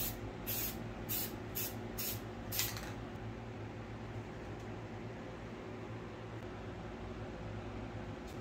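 Black spray paint hissing from an aerosol can in a series of short bursts, then a steadier low background noise as spraying stops.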